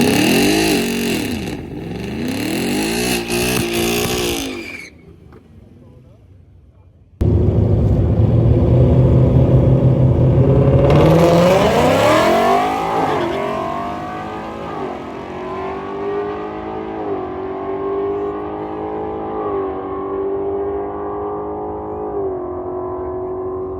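A 2024 Mustang GT on Kelltrac long-travel coilovers with a swaybar delete launches hard, its V8 revving up through a brief lull before a loud, sustained roar that climbs and holds as the car pulls away, with no talking.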